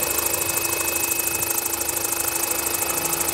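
Large electric RC model helicopter of about 25 kg, its rotor turning at low speed, makes a steady, continuous whirring hum with a pulsing buzz and a high whine, loud and close throughout.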